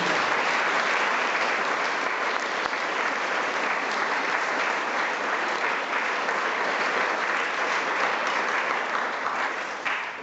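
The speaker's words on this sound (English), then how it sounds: "Let's give them a round of applause" Sustained, steady applause fills a school assembly hall for about ten seconds, a dense wash of many hands clapping together that tapers slightly at the very end.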